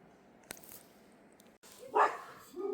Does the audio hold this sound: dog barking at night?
yes